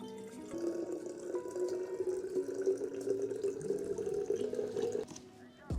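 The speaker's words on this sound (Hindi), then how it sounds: "और अब डालते हैं पानी।" Water is poured steadily into a hookah base set on a weighing scale. The pour is a continuous, close trickling splash that lasts about five seconds, then stops abruptly.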